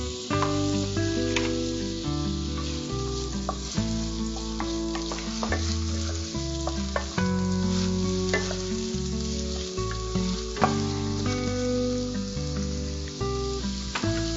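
Onions fry in a pan with whole spices such as cardamom for chana masala, a steady close sizzle and crackle with occasional stirring, under sustained background music and no speech.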